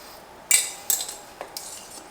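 Metal spoon scraping and clinking against the inside of a pot while lifting cooked orecchiette pasta off the top, a few separate light clinks spaced out over a quiet background.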